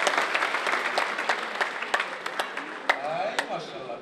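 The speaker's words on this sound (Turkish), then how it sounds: "Alkışlar olsun cici kızına." An audience claps at a live show in Tashkent, a steady patter of many hands close by that thins out near the end, with a voice speaking over it.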